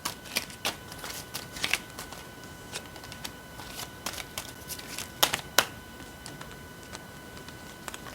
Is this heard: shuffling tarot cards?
yes